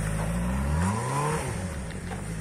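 A motorcycle engine revs under throttle during a riding lesson, the pitch climbing sharply and then easing back as the rider controls the clutch, fairly close and alone without talk.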